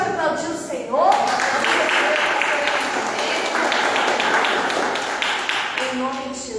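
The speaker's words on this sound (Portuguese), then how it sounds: "Você pode aplaudir o Senhor?" A church congregation applauds together in a steady, dense burst of clapping that swells after a brief spoken moment and fades slightly near the end, with voices over it.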